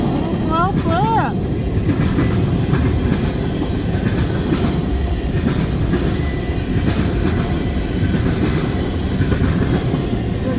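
A CN freight train, M341 led by locomotive 3904, rolls past at Ladysmith, Wisconsin, as a loud, steady, close rumble of wheels and railcars. A brief tonal sweep sounds near the start.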